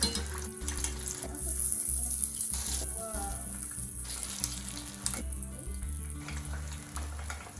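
Catfish frying in hot oil, a steady crackling sizzle with bursts of bubbling and faint splashes, close by, with a low steady hum underneath and no talking.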